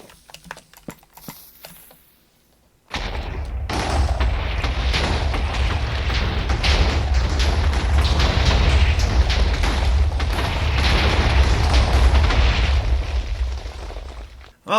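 TNT blows up in Minecraft while a lake bridge is being built: quiet clicks first, then a sudden loud blast that turns into a long, sustained rumbling roar, several overlapping detonations filling about twelve seconds before they cut off.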